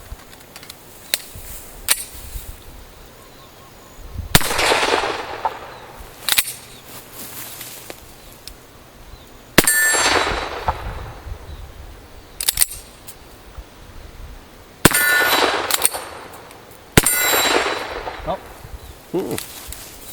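A Beretta M9 pistol fires black powder rounds outdoors, sharp, loud, close shots spaced a few seconds apart, each followed by a short ringing echo, with small clicks and handling noises between them.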